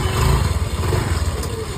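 A motorbike engine runs steadily with a low, pulsing exhaust rumble from the silencer, loud and close, with no talk over it.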